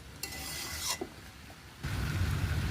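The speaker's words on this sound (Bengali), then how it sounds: "এখন এভাবে নাড়াচাড়া করে করে মিশিয়ে নিয়ে তারপরে" Fish and vegetable curry being stirred in a pan, a scraping, sizzling stir that comes in a couple of close bursts with a short lull between them and no talking.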